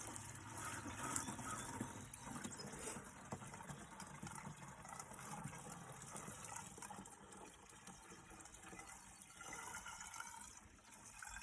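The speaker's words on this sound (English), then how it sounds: "pour some water into my watering can from this bucket" Water poured from a bucket into a garden watering can outdoors, a continuous soft splashing and gushing that runs steadily throughout, fairly quiet and with no voices.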